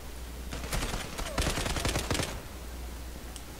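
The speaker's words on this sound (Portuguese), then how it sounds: "Aqui pra baixo, o tiro tá rolando." Bursts of rapid video game gunfire from Zula crackle in quick volleys for a couple of seconds, then fade to a low background hum.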